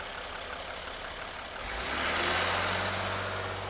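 A diesel truck engine, stalled in reverse against the brakes, rises from a steady idle to a loud, heavy labouring drone that holds near and strong to the end.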